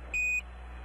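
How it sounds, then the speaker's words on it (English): A single short, clean electronic beep from an Apollo 11 radio transmission, lasting about a quarter second over a faint background hiss. "you're going to hear a series of beeps"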